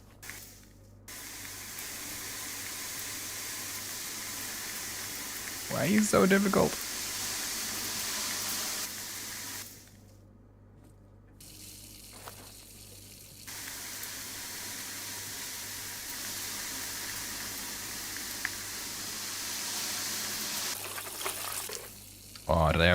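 Liquid pouring in the video game Low-Budget Repairs, a steady hissing gush that runs for long stretches and stops twice, with a few brief clunks and someone talking over it.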